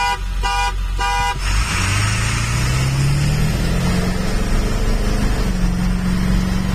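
Three short car horn toots in quick succession ring out loudly, then a car engine revs steadily higher under road noise during a top-speed run.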